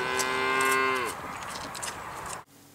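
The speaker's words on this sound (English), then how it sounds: "We met some cows." Cows met near a Cornish or Devon field give a long, loud low moo that slides down at the end, followed by a second rougher lowing call before it cuts off.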